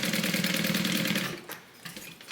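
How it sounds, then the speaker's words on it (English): Sewing machine running steadily with a rapid, rhythmic stitching chatter while joining two layers of cotton, close and loud, then slowing and easing off near the end, with no talking. "my sewing machine doesn't necessarily like that little thin fabric"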